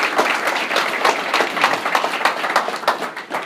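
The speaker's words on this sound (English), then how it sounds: "give Will a round of applause." Audience applause after a talk on soil biology and respiration, dense steady clapping from a crowd filling the whole stretch.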